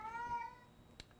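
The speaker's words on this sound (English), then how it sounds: "that is my cat." A cat gives a single faint, drawn-out meow indoors, a thin wavering cry lasting about half a second, followed by a soft click in a quiet room.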